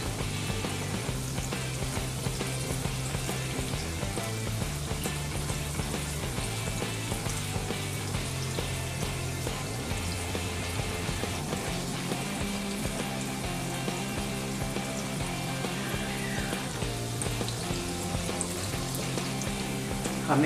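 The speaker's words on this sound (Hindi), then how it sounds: "हमें बॉल्स को गोल्डन ब्राउन करना है, थोड़ा सा और कलर आने तक हम इसे फ्राई करेंगे" Vegetable manchurian balls deep frying in hot oil make a constant bubbling sizzle, close and even throughout with a low rhythmic hum underneath and no speech.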